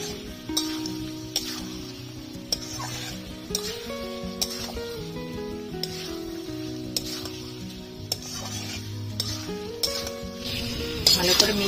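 Mutton curry with fried potatoes sizzles in a pan while being stirred and mixed, with a steady frying hiss and periodic scraping clacks of the spoon every second or two, under a voice talking.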